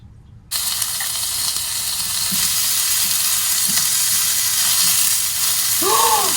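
Beef skirt meat sizzles steadily on a hot surface after a short silent start, a dense continuous crackle that stays close and loud throughout.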